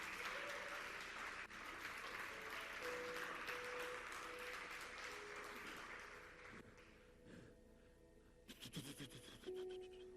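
Church congregation applauding loudly during a worship service, dense sustained clapping with organ or keyboard tones beneath, fading partway through before a burst of music swells back near the end.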